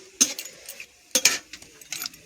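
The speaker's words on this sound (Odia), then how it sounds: "ଡାଲମା ଛୁଙ୍କ କରିବି" Dalma being tempered in a pan in a home kitchen: a few brief metallic clinks and scrapes of a spoon stirring, with faint sizzling between the strikes.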